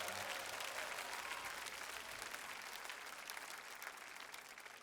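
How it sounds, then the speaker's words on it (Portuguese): A church congregation claps their hands together, a dense, steady wash of applause that gradually thins and fades over a few seconds, heard at a low level from across the room. "Se você crê nisso, bata palmas para Jesus."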